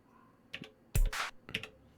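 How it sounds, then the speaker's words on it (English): An Octatrack sampler plays only the start of each drum slice, so the hits come out as a few short, clipped, clicky bursts with quiet gaps between them and no voice over them. "you can hear it's only playing the beginning of one of the slices"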